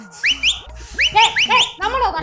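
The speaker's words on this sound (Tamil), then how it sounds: "பாத்தீங்களா பேசும்போதே விசில் அடிக்கிறேன்" A person whistles a series of short rising chirps and slides, loud and close, with speech mixed in between the whistles.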